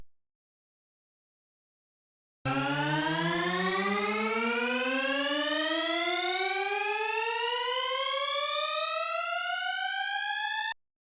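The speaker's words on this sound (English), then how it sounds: "Configure mod envelope 1 like so that it causes all the oscillators to slowly glide upwards in pitch." Sylenth1 synth riser with all oscillators gliding slowly and steadily upward in pitch, a bright, buzzy harmonic-rich tone that starts abruptly after a short silence and holds at constant loudness for about eight seconds before cutting off.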